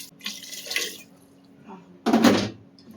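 Water poured from a tap over vegetables in a pressure cooker in a home kitchen, a short splashing pour, a quieter trickle, then a louder gush near the end, close and with no voices.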